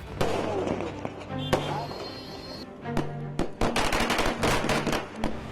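Sharp bangs and crackling bursts of Diwali-night firecrackers in Delhi NCR go off in irregular clusters, some near and loud, others distant, with voices and background noise throughout.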